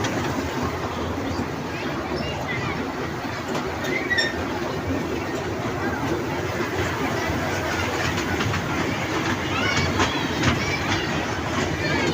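A small mini train at Khan Paradise Park in Rajbari, Bangladesh, rumbles along steadily with faint clacking and a few high squeaks, voices murmuring underneath the constant running noise.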